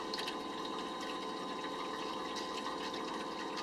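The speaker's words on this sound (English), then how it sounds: "You can hear the water gushing out." Water gushes out of an RV's water lines as they are blown out during winterizing, producing a steady, rushing hiss that stays constant and fairly close, with no talking.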